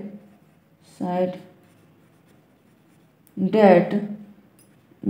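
Hand writing in a Hindi-language English translation lesson, soft pen strokes scratching faintly under two short bursts of a man's speech, with quiet pauses between.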